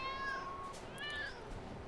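A cat in the video game Lego City Undercover gives two clear, quiet meows in quick succession, alone with no talking.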